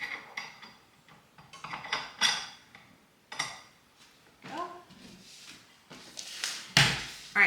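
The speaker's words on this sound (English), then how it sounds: "just setting up my small bowl and small whisk" A small bowl and a small whisk are set down and shuffled about in a home kitchen, giving scattered clinks, knocks and clatters at close range in irregular bursts, with no talking.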